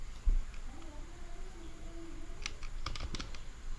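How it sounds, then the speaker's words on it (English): Keystrokes from a computer keyboard entering a command at a Windows 11 command prompt, a short cluster of quick, fairly close clicks late in the stretch over a quiet background hum. "Now you need to type this command"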